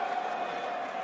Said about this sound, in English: The crowd are geeing him on.